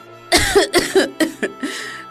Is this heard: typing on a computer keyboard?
no